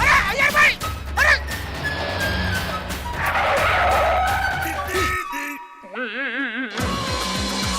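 A car skids loudly with a drawn-out tire screech and rushing noise, then cuts off abruptly, followed by brief warbling tones and other sounds, with people talking around it.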